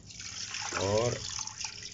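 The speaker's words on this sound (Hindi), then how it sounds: "और अब हम इसमें डालेंगे 1 लीटर पानी" One litre of water is poured into a cooking pot holding onions and ghee for mutton shorba, a brief, soft splashing pour of about half a second while someone speaks over it.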